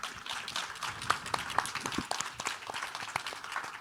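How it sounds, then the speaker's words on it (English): Audience applause at a panel on indie TV at SXSW 2024, a steady wash of many hands clapping through the whole stretch, fairly even in level with scattered sharper claps. "I think there was applause for good hoodies, wasn't it?"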